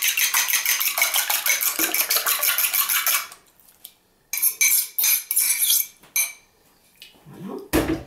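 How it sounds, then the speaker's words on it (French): A fork beats four eggs for an omelette in a bowl, a fast, even, rhythmic clinking that runs loud for about three seconds. Then come a pause and a few scattered, looser taps and scrapes, close and with no talk. "on va battre en omelette les 4 œufs qu'on va ajouter dessus"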